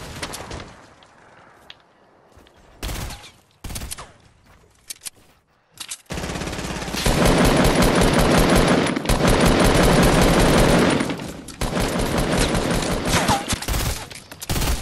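Video game shootout: scattered shots are followed by long, loud bursts of rapid automatic gunfire that continue almost unbroken to the end.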